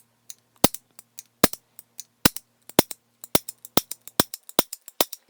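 A 2026 Colt Python revolver's cylinder clicks crisply and repeatedly as it is cycled through a timing check, sharp close metallic snaps in an uneven rhythm over a faint background hum.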